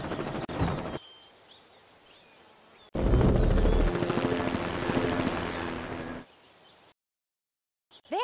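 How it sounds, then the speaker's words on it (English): Helicopter engine and rotor noise from the Tonka Search & Rescue video game, a steady whirring drone that starts abruptly, holds for a few seconds at moderate loudness, then cuts off. "If you want to take this chopper up, then turn on the ignition, pull back on the control stick, and away you'll go."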